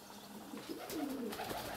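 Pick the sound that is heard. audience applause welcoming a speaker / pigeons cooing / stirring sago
pigeons cooing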